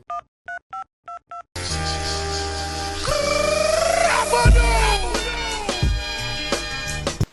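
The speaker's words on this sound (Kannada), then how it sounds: "ಸೀನಂಗ್ ಕಾಲ್ ಹಾಕ" In a Kundapra Kannada animated series, a phone call is placed with five short dialing tones, evenly spaced, followed by loud background music with swooshing effects.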